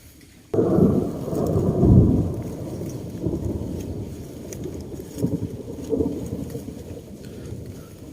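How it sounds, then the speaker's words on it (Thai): Thunder rumbling during a storm over a lychee orchard, a deep roll that swells abruptly and keeps grumbling for several seconds with rain-like hiss beneath, fairly loud and close, no talk. "ก็กลัวฟ้าร้องด้วยนะครับ"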